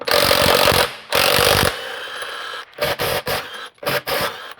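A power impact tool unscrews wheel bolts on a Mercedes W210, loud close bursts of rattling hammering, two long runs then several short rapid pulses, nobody speaking.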